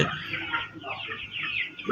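Sonali chickens cluck and chatter continuously at a poultry farm, a dense, fairly close flock sound with a voice speaking over it.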